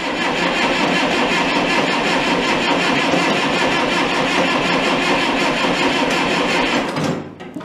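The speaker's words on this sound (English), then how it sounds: "she's cranking a little slow" A car engine cranks slowly and steadily on a weak battery, a continuous laboring churn held for several seconds before cutting off abruptly near the end, close and loud with no talking.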